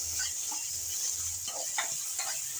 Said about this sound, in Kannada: ಇದೆಲ್ಲವನ್ನು ಚೆನ್ನಾಗಿ ಎಣ್ಣೆಯಲ್ಲಿ ಫ್ರೈ ಮಾಡ್ಕೊಳ್ಳೋಣ